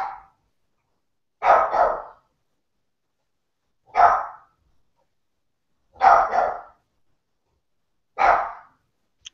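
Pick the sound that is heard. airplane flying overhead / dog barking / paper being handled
dog barking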